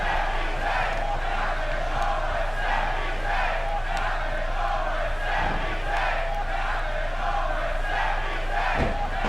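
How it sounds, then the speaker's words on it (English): A sold-out arena crowd in WWE 2K16 chants loudly in steady, rhythmic bursts before a main-event wrestling match, a dense, close roar of voices repeating the same call over and over. "Dueling Kevin Owens and Sami Zayn chants from the sold-out crowd"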